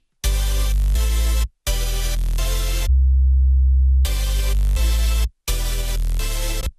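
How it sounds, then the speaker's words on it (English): Crispy, distorted synth bass from a complextro track sounds in loud, bright, gritty chord stabs that cut off abruptly, with a lower sustained tone in the gap between them, with no voice. "if you listen to the chords only, you hear like this crispy bass"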